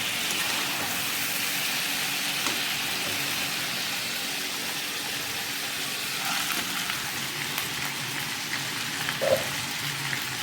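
Prawns fry in a pan for a Pakistani-style karahi, giving a steady, close sizzle and crackle with occasional small pops and no talking.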